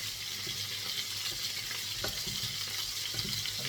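Garlic fries in olive oil for a spinach, mushroom and chicken wing sauté. It makes a steady close sizzle with light crackle throughout and a brief clatter of stirring midway, with no talking.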